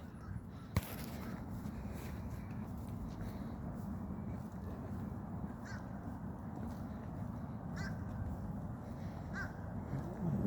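A few crow caws sound in the distance, spaced out over a steady outdoor rumble of wind and a flowing river.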